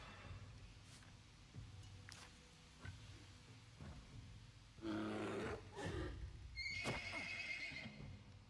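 A horse in the video game Wartales gives a loud, shrill neigh late on, after scattered hoof clops and game sounds. No one speaks.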